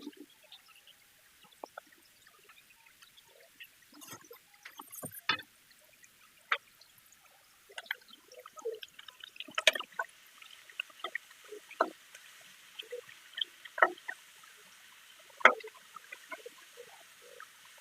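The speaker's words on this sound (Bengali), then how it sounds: "এবারে আমি দিয়ে দেব সরিষার তেল। সরিষার তেল দিয়ে দিলাম।" Mustard oil poured into a pan while cooking pabda fish with tomato, giving faint scattered drips, crackles and small splashes that come and go for some seconds before building a little, with no talk.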